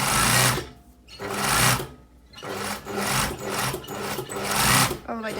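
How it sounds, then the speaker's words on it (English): An overlocker sewing machine serging the side seams of a cowl-neck blouse runs in three or four loud, buzzing bursts separated by brief pauses, close up, with faint talk nearby. "now I am going to overlock my side seams and press them towards the back"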